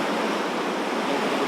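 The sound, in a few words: large river flowing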